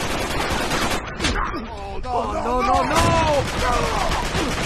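T-bolt gunfire in an Uncharted 3 free-for-all match on Molten Ruins, a series of sharp shots and impacts mixed with game effects and a speaking voice, moderately loud and close.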